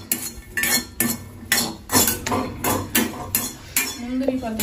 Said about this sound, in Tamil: முந்திரி நல்லா வறுக்கணும், பழைய கிறிஸ்பினஸ் வரணும்